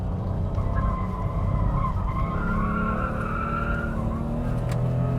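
An original BMW M5 is driven hard, its tyres squealing and scrubbing as the car pushes toward a slide over a loud, continuous engine drone, with no voices.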